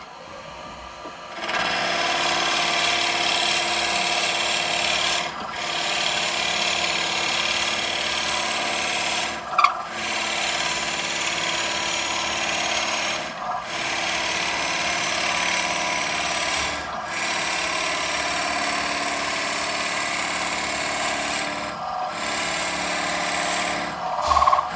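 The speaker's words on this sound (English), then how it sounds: "I'll just drill in 2 inches on this one, either side." A drill grinds steadily into wood in several long bursts, each broken by brief pauses, close up with a whining motor tone.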